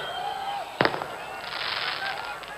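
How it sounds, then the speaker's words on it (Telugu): One sharp firecracker bang cuts through a noisy outdoor welcome gathering, followed by crackling and a rising crowd hubbub. "ఆ టపాకాయలు ఆపాలి బాబు"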